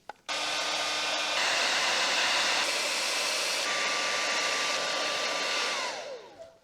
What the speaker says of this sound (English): We're going to use this hairdryer to heat it up and then remove it.